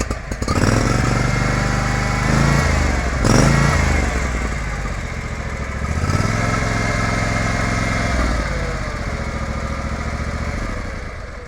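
Simplicity zero-turn mower engine runs with an uneven, surging drone after a choked start, its pitch dipping and rising several times, loud and close with no voices.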